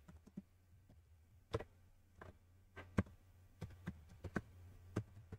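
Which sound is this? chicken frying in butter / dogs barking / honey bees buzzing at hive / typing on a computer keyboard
typing on a computer keyboard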